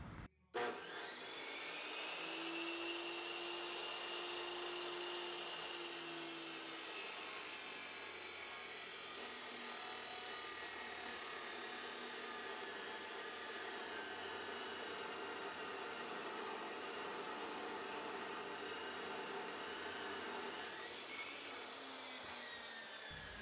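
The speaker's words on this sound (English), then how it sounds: "I have a metal cutting chop saw" A metal-cutting chop saw running on a workbench and cutting rebar, a loud continuous whining grind lasting about twenty seconds before spinning down, with no talking.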